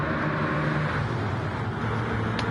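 Stock cars roar steadily in a NASCAR video game race at Daytona, a continuous dense engine drone with no gaps and no talking.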